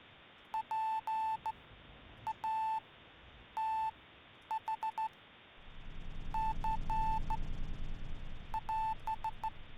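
Morse code beeps in the survival game Dots and Dashes sound as crisp, high electronic tones in short and long groups with pauses between them, later joined by a rising low rumble.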